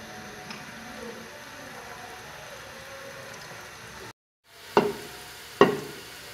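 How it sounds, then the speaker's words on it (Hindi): Chopped onions fry in about a cup of hot oil with a steady, close sizzle for several seconds, then a brief hush followed by two sharp clinks, likely a spoon against the pan. "और इसको हम फ्राई करेंगे, गोल्डन ब्राउन कलर देंगे इसको।"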